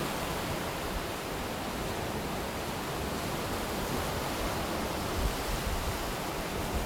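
A steady broadband wash of ocean surf at sunrise, continuous and fairly even in level, with no voices, like waves rolling in nearby.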